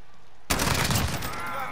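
Gunfire erupts abruptly in the video game Call of Duty Warzone after half a second of near silence, a loud burst that then trails into a sustained noisy wash.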